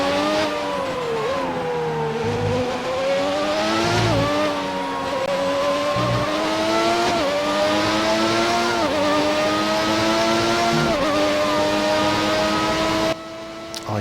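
Formula 1 car racing around Paul Ricard in the F1 2019 video game: a loud, high engine whine climbing through the revs, dropping sharply at each gear change, then rising again in a steady repeating pattern with no speech.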